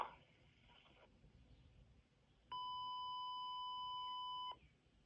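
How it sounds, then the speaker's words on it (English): After a quiet stretch with a faint noise, a Uniden XCA4500 cordless phone answering system sounds a single long electronic beep clearly for about two seconds, then stops. "It beeps a lot."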